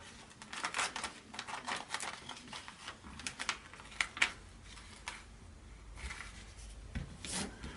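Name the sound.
smoothing contact paper flat on paper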